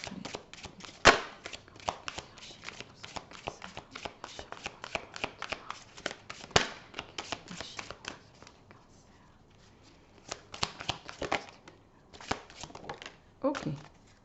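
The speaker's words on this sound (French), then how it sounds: "on va prendre une carte d'Isabelle Serre avec les chakras du cœur" Oracle cards being shuffled by hand, a quick run of crisp riffling flicks and snaps in bursts with brief pauses, close and fairly quiet, with some low talking.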